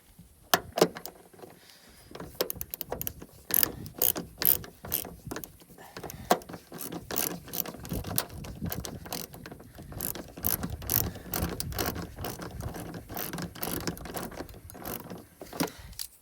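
A ratchet drives screws back into the rear bumper of a Ford Territory (SX/SY/SY2), giving rapid, close, crisp clicking in repeated bursts with short pauses throughout.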